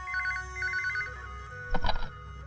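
A telephone rings in an Indian action drama scene: two quick electronic trill bursts come first, then a louder, harsher ring burst. All are close and clear, with no voices.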